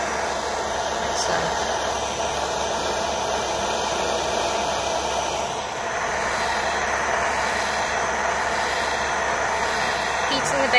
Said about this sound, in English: So I'm having to heat the brick and angle the torch so that I can start to heat the base without directly putting the torch onto that bezel.